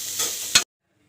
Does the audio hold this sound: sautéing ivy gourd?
yes